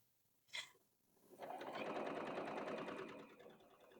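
A sewing machine stitches sweatshirt sleeve pieces placed right sides together for a quilted sleeve, starting with a short click and then running steadily and close for a few seconds before slowing.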